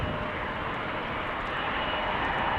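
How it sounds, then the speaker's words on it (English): A fixed-wing airliner's engines roar steadily near the runway at Amsterdam Schiphol Airport on a windy day, a loud, continuous broadband drone with no voices. "I can hear that there's another airplane just entering the runway threshold to the right of me"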